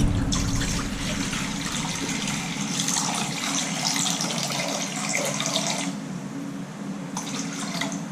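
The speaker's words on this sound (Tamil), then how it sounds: "அதனால் அந்த சொம்பில் தண்ணி ஊற்றிக்கிறேன்" Water runs from a tap into a metal pot while cooking Maggi noodles, a close, continuous splashing trickle that drops in level after about six seconds and then swells again briefly.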